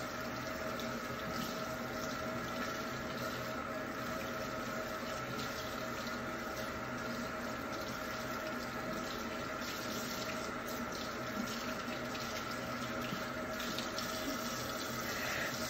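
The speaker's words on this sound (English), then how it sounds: "Wash off the soap under the warm water for at least 20 seconds." Warm water runs steadily from a sink tap during handwashing, a faint, even hiss with no voices over it.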